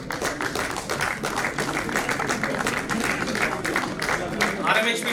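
An audience at an RINL National Safety Day celebration breaks into sustained applause, a dense steady patter of many hands clapping with voices mixed in underneath.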